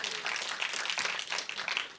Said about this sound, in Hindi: शरद सक्सेना साहब के लिए एक बार तालियां मारिए।